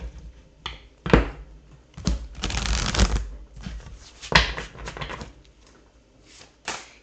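A deck of animal oracle cards is riffled and shuffled several times, with crisp fluttering bursts between soft taps and handling noises, close up.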